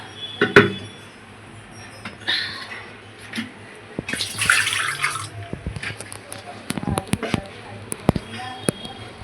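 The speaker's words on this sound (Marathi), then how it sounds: "थोडंसं पाणी घालूया याच्यात." Water is poured into a pan in a short splashing rush, surrounded by scattered clinks and knocks of utensils.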